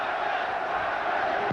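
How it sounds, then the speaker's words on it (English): The crowd at a Mike Tyson boxing match roars and shouts in a sustained, loud wave of cheering and yelling, urging the fighters on. "Now the crowd begins to implore Tyson"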